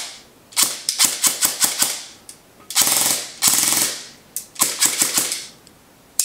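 An upgraded Echo 1 Platinum Edition M4 airsoft rifle with a torque motor, speed gears and a 120 spring fires several quick full-auto bursts. The sharp, rapid clatters are close and loud, split by short pauses.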